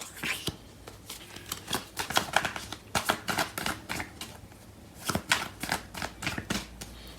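Tarot cards are shuffled by hand close up in quick bursts of crisp riffling and flicking clicks, several rounds separated by short pauses.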